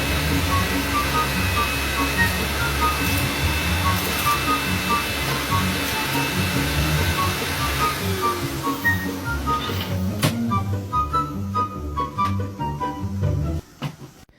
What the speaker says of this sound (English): powermate bags canister vacuum cleaner. And here we have the Henry HVR200.